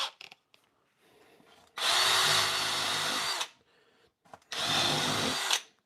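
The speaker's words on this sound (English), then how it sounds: "we are done drilling" A power drill bores a 1 1/8 inch hole in a megatree controller box in two loud, sustained grinding bursts of a second or more each, with quiet handling noises before and between them.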